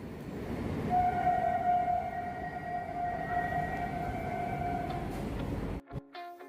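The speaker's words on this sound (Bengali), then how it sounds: "ট্রেন স্টেশনে দাঁড়িয়ে গেছে, এক্ষুনি গেট খুলবে" A new air-conditioned local train on the Sealdah division pulls into Shyamnagar station over a low rumble, with steady whining tones held for several seconds. The sound then drops away abruptly into brief beeping clicks.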